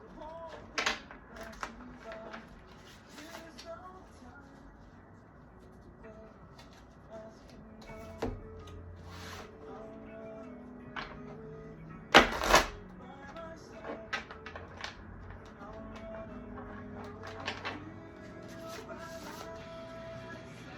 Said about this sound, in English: Actually, let me just shuffle all these again.